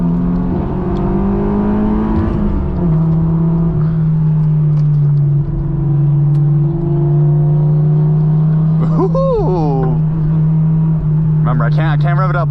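Honda S2000 engine with a factory rebuild droning at steady low revs while driving, a loud continuous hum inside the cabin, with a brief rising rev near the end and someone talking over it.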